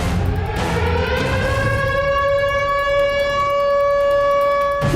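A loud, sustained air raid siren wails steadily, its tone slowly rising and holding, with no voices over it.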